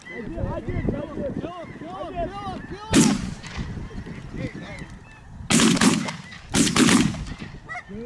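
Shotguns fire during a goose hunt on a farm as several loud, close blasts come singly and in quick pairs, with geese honking throughout and hunters talking between the shots.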